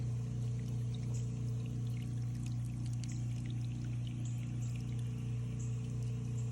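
Water runs around a small dam after more than ten inches of rain, a steady, close pouring and gurgling flow that continues evenly throughout.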